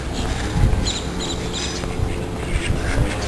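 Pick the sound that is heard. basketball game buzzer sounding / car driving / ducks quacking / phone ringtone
ducks quacking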